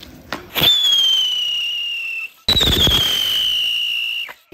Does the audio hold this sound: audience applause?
no